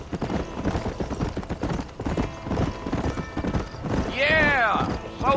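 Horse hooves clip-clop steadily on a trail in the Red Dead Redemption western game, close and rhythmic under male conversation, ending with a sharp neigh.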